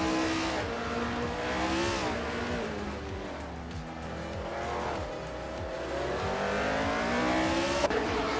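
Surtees TS19 race car engine in a racing video game, droning steadily with rising and falling pitch as it accelerates and shifts, loud and continuous throughout, with faint tire squeal.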